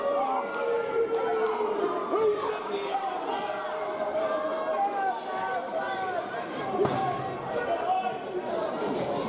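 A wrestling crowd in Burlington at a tag team match fills the room with lively chatter and shouting. Cheers swell and fade, and a commentator's voice can be heard above the steady noise of the crowd.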